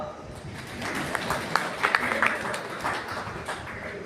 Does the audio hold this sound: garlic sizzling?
no